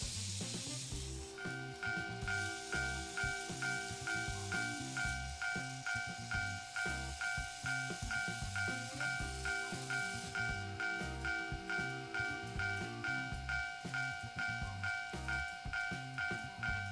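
A TOMIX N-gauge automatic level crossing alarm on a model railway rings continuously, a rapid electronic ding-ding at a steady rhythm with sustained tones, clear and alone.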